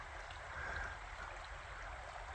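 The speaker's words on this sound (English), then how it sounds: "Well, I came back and found this creek," A small brook trout creek in Michigan woods flows with a steady, soft wash of running water, faint and continuous throughout, with no voices.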